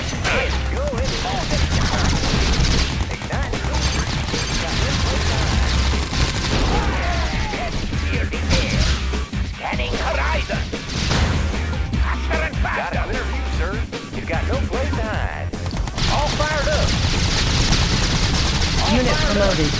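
Automatic gunfire, likely machine-gun bursts in the Red Alert 2 strategy game, rattles through a dense, busy battle mix with explosions and unit voices, loud and continuous for most of the stretch.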